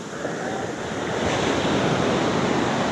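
Ocean waves surge around a small fishing boat at sea as the swell builds, a broad continuous wash of surf mixed with wind buffeting the microphone, swelling louder toward the end.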